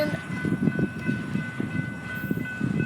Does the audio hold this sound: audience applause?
no